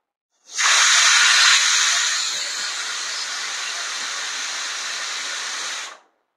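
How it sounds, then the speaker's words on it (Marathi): A pressure cooker cooking roselle leaf greens on full gas gives its third whistle, a loud, sharp hiss of steam that holds steady for about five seconds, then cuts off abruptly. "कुकरची इथे 3री शिट्टी आहे."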